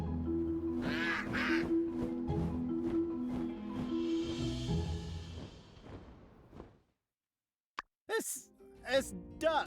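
A duck in the farming game My Time at Sandrock quacks repeatedly over game music and someone talking, then the audio drops out and a few sharp quacks or chirps come through after the pause.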